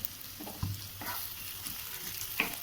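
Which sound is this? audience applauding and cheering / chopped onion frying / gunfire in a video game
chopped onion frying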